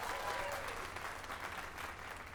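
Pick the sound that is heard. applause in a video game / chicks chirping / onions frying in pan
applause in a video game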